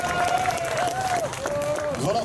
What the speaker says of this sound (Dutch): Vandaag jullie applaus voor de Europese kampioen Arel Dox.